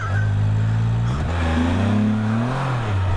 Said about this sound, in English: Just drifting through the corners in the old F3T.